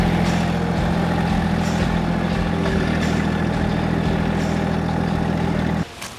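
A Massey Ferguson GC1725 compact tractor's engine runs steadily at a loud, close idle with a low rumbling drone, then drops off sharply near the end.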